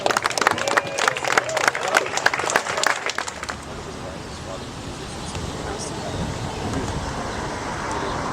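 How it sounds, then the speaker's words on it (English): Crowd applause and cheering at an outdoor street-naming ceremony in Long Beach, NY, dense clapping for about three seconds before cutting to quieter open-air crowd murmur and distant background noise. "One more round of applause for MF DOOM and staff."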